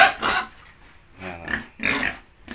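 Pigs on a small backyard farm in the Philippines grunt and snort in short irregular bursts, close by, with quiet gaps between the calls.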